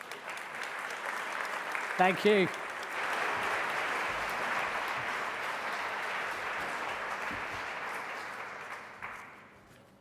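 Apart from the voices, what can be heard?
audience applause at an awards ceremony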